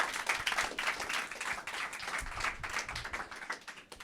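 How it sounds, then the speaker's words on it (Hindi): An audience at an open mic event applauds steadily for about four seconds, a dense, lively wash of many hands clapping together at moderate distance. "थोड़ी तालियां और"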